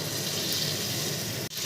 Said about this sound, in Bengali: এবার আমি মশলা ধোয়ার জলটা এতে দিয়ে দেব।